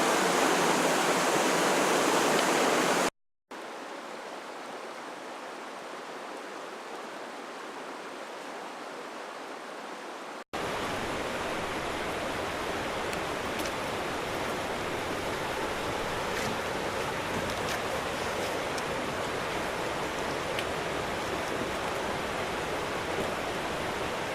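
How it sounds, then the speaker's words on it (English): Continuous rushing water of a cascading waterfall on Cathedral Creek roars steadily, a dense broadband cascade with brief cuts and level changes but no voices. "right behind me is one of the cascading waterfalls"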